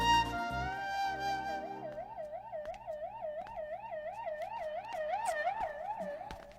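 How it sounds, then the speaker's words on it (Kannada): An ambulance siren wails in steady, repeating rise-and-fall sweeps, loud and close the whole time, with no voices over it. "ಯಾವ್ದು ಆಂಬ್ಯುಲೆನ್ಸ್ ಹೋಗ್ತಾ ಇದ್ರೆ ನೀನ್ ಬೇಡ್ಕೊಂತ ಇದೀಯಾ?"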